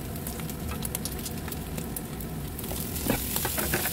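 Fried rice with kikiam, egg and vegetables sizzles loudly and steadily in a hot pan. A constant hiss of frying is broken by light crackles and the occasional scrape of stirring.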